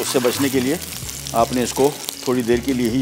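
Sausages fry in a pan on a kitchen stove, giving a steady sizzle beneath a person talking continuously.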